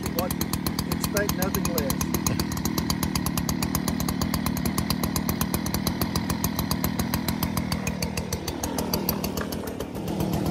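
A STIHL SR 200 gas-powered backpack sprayer engine runs loud and steady close by, a buzzing two-stroke drone that dips slightly near the end, with someone talking over it.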